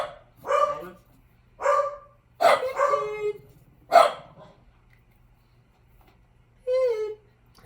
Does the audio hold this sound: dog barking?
yes